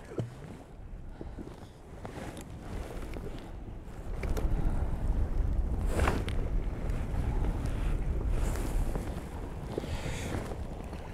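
Strong wind gusts buffet the microphone on a fishing boat out at sea off Blythe, with a steady roar of wind and water that swells louder after the first few seconds and stays constant.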